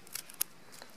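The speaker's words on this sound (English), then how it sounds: "we need to take these side ones, and we're going to cut them off." Scissors snipping Himalayan blackberry bramble stems at an angle for a bark basket, two or three quiet crisp cuts close by in a hushed room.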